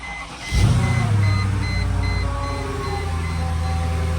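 A Mercedes-Benz W211 E63 AMG engine cranks and fires up at close range, surging briefly on start before settling into a steady, deep idle with a faint chime ringing alongside.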